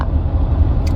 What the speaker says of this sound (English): It's just noisy in this Jeep.